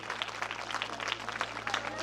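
An audience at a stage ceremony honoring a student claps in a dense, steady patter of many hands. The applause sounds moderately distant and continues for the whole moment with no break.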